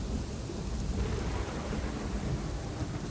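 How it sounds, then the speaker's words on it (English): Heavy rain pours steadily on a stormy night, with low rolling thunder rumbling beneath the dense hiss of the downpour, sustained and fairly close, with no voices. "Big stormy rainy night."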